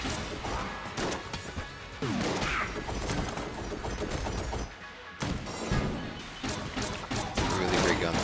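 Gunfire in the video game Enter the Gungeon: loud, dense bursts of shots with crashing impacts and mechanical clacks, continuous across the stretch with brief dips.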